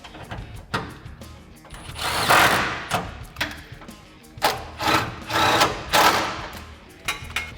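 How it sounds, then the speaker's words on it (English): A 10mm socket on a ratchet tightening exhaust tip bolts on a 2021-2022 Ford F-150 with a Roush single exhaust, irregular clicking and rattling metal bursts, close up with no talk. "And now we can take our 10mm socket to tighten these down."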